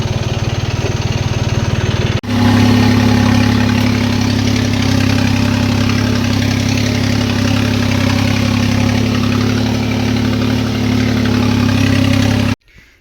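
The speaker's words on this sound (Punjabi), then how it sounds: "ਦੂਜੀ ਹੈਰੋ ਲਾ ਕੇ ਤੇ ਵੀ ਟਰੈਕਟਰ ਨੂੰ ਆਪਾਂ ਥੋੜੀ ਦੇਰ ਰੋਕਾਂਗੇ" A tractor engine runs steadily in a field during harrowing before sweetcorn planting, a loud, continuous low drone with a change in pitch after about two seconds, then cutting off abruptly near the end.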